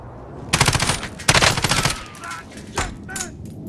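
Bursts of automatic gunfire in Call of Duty: Warzone, two loud close volleys of rapid shots followed by a few fainter single shots and scattered game effects.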